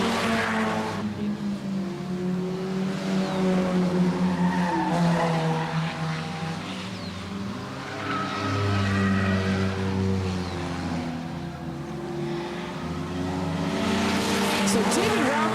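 Race cars roar around the oval at Grand Bend Speedway with rising and falling engine drones as they pass, loud and continuous, while an announcer talks over the racing.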